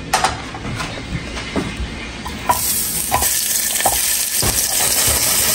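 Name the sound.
frying salty dried fish (buwad)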